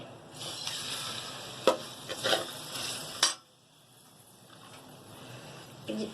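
Ground onion paste with cumin hits hot oil and ghee in a pan, a sizzling hiss broken by a few sharp stirring clatters, then it settles to a quieter, softer frying sound.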